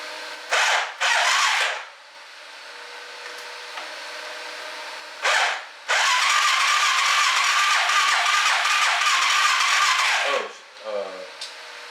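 Arctic Cat snowmobile engine cranking with the choke on, with short bursts of loud mechanical noise followed by a long sustained roar that cuts off abruptly, and a few brief rattles after it.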